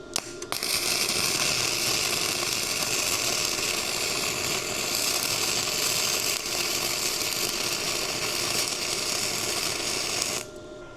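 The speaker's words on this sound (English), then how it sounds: "Now I'm going to simulate if your voltage is too high and it's burning too hot." Arc welding with the voltage set too high so the weld burns too hot, giving a loud, steady crackling hiss that runs unbroken for about ten seconds and then cuts off abruptly.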